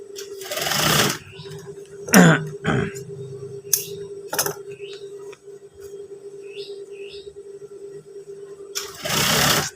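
A sewing machine stitches a trouser waistband in short, close bursts of rapid mechanical whirring, separated by pauses, with a faint voice in between.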